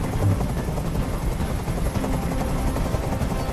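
A helicopter drones steadily overhead in a tense standoff scene from the Detroit: Become Human video game, its dense rotor roar holding loud and constant with no voices.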